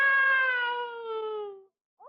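A man imitates a cat with one long, drawn-out meow that slowly falls in pitch, then a short new vocal sound starts after a brief pause.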